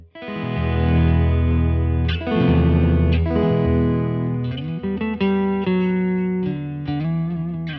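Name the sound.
guitar through Strymon Deco tape pedal with double tracker on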